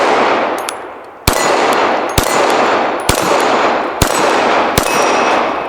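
Five sharp, loud gunshots fired at a 2 liter bottle ring out about a second apart, each with a brief metallic ringing decay and no talking in between.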